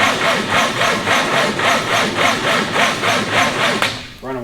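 Go Devil engine cranking over on its starter, a steady rapid rhythmic chugging pulse running loud and close for about four seconds before cutting off abruptly.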